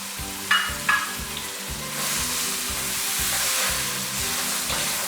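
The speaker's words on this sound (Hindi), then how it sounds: "मसाले को भून लें। टमाटर शामिल करें।" Spice masala with tomato fries in a pan, a steady close sizzle that swells after a couple of stirring clatters and holds loud and even throughout.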